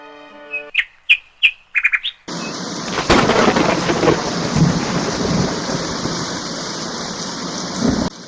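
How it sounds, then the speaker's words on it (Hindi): Heavy rain breaks out with rolling thunder, following a few sharp bird chirps in near silence; the downpour then stays loud and continuous, with deep rumbles beneath the hiss. "अगले दिन जोरदार गर्जना के साथ बारिश होने लगी।"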